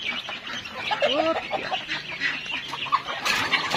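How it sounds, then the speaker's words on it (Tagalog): Several chickens cluck and chatter close by in a busy, overlapping flock, with occasional louder squawks. "ito yung mga manok namin"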